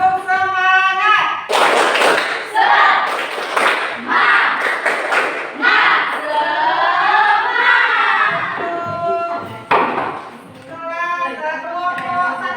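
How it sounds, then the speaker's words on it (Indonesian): A school class performs tepuk semangat, a rhythmic spirit clap pattern in loud sharp bursts of group clapping, interleaved with children's voices chanting along. "kita kasih semangat dulu dengan tepuk semangat"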